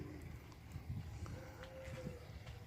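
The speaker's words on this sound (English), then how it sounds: "And now the cows are populating the flats in Caraorman." Cattle grazing on open flats in the village of Caraorman in the Danube Delta, with low, faint mooing and rustling heard at a distance against steady outdoor background noise.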